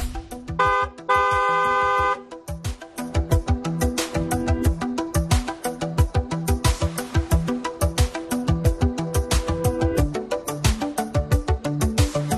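A vehicle horn sound effect gives one sustained honk lasting about a second, set over a driving, rhythmic music beat that carries on loudly afterward.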